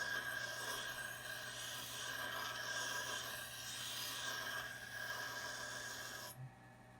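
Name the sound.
grinding a blade evenly from both ends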